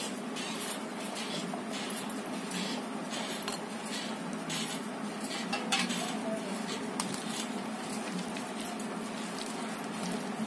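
Aloo pakodi batter with cut potato pieces being mixed in a bowl, giving a steady run of soft scraping and clinking against the dish that lasts throughout at moderate closeness, with no voices.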